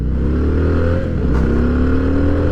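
A Harley-Davidson Fat Boy motorcycle accelerates from low revs, its loud, deep engine rumble climbing steadily in pitch, heard close with rushing wind and no talking.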